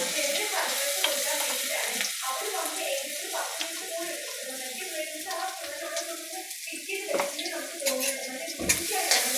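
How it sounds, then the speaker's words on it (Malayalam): Crushed ginger and garlic fry after mustard seeds in a pan for chicken curry, a quiet, uneven sizzle with scraping stirring sounds and a sharp knock near the end. "അതൊന്ന് വഴുത്തട്ട് ഇച്ചിരി ഒന്ന് ഇളക്കി അതിൻ്റെ പച്ചമണം ഒന്ന് മാറിയിട്ട്"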